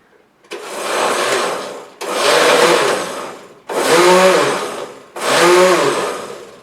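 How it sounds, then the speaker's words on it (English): A blender chops fibers into pulp for jewelry silicone mold making, running in four loud, short bursts of about a second and a half each, separated by brief pauses, with no other sound. "give it just enough of a burst of the blender to break things up"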